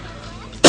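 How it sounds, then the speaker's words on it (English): A single short, sharp cough bursts out at close range right at the end, after a quiet stretch, from someone suffering from a bad cold with a sore throat. "I'm coughing every 5 minutes."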